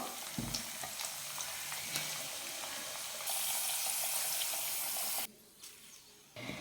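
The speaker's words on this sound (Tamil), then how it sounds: "இதே மாதிரி எல்லா உருளைக்கிழங்கையுமே ஃப்ரை பண்ணி எடுத்துக்கலாம்" Potato pieces frying in hot oil for a Tamil potato curry, a steady hiss of sizzling that grows louder partway through, then drops sharply near the end, with no one talking.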